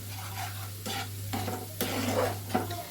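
Egg and paneer mixture stirred and fried in a pan, with a steady sizzle and scraping strokes of the spoon against the pan, close and moderately loud, with a constant low hum underneath.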